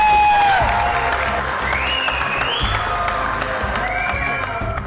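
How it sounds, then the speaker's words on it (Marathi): Crowd applause and cheering at a village sports match between two local teams, a loud sustained clapping wash with whoops and overlapping speech, with whistle-like gliding tones above. "टाळ्या."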